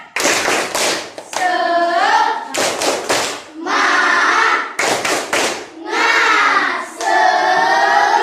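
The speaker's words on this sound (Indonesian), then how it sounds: "sekarang kita tepuk semangat" Schoolchildren in a classroom doing a rhythmic 'tepuk semangat' spirit clap: short bursts of sharp group claps alternate with loud chanting voices, repeating in a patterned call-and-clap sequence.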